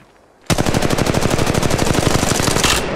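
Sustained automatic gunfire from Octane's weapon in the mobile battle royale game Apex Legends Mobile: loud, close, rapid evenly spaced shots that burst in after a brief near-silence and keep hammering for about two and a half seconds, with no talk.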